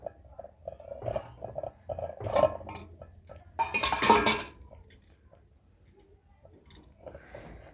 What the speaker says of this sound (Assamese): মই ঢাকনিখন তুলি লৈছো এতিয়া